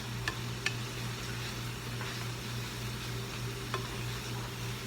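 Green beans sizzle softly in a pan, a low continuous frying hiss with a few brief clicks of stirring scattered through, quiet and steady with no voices.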